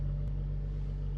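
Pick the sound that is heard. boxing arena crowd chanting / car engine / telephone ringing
car engine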